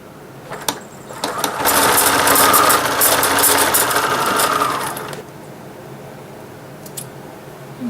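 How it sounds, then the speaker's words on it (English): An electric sewing machine whirs up to a steady, fast stitching drone for about four seconds as it sews the bottom edge of a patchwork Christmas stocking, then stops, with faint handling clicks after. "Sew the bottom edge together."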